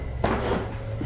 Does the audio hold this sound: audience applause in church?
no